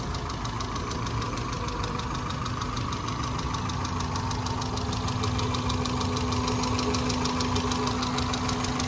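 A 2009 Kia Morning SLX automatic idles steadily up close, its engine giving a smooth, even hum with a faint ticking rhythm and a steady low tone throughout, with no talking.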